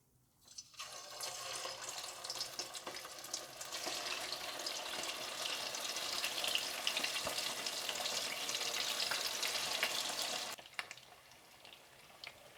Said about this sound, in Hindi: अब आपने इसे अच्छा सा गोल्डन फ्राई कर लेना है